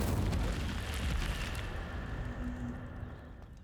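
An Incendio fire spell cast in Hogwarts Legacy bursts with a loud whooshing, rumbling blast at the start that slowly fades into a softer crackling tail.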